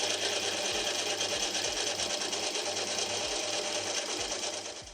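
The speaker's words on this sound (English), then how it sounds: "I'll start by facing the stock." A metal lathe faces large steel stock with light passes, giving a steady whirring, whining drone with a regular low pulsing rhythm, heard close and alone before fading slightly at the end.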